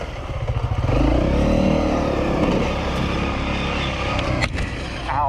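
A Scorra trials motorcycle rides a wooded trail, its engine droning loud and close with a rising rev, then steady running and a brief clatter near the end.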